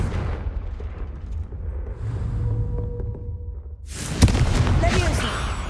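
Confringo blasting spell in the Hogwarts Legacy video game: rumbling game ambience gives way to a sudden loud burst and a sustained bright roaring explosion tail.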